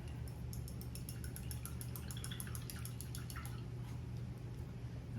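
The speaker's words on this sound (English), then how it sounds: "I'll rinse my brush off real good." A paintbrush is swished and rinsed in a container of water at a painting table, making quiet, rapid, rhythmic sloshing and dripping that fades after a few seconds.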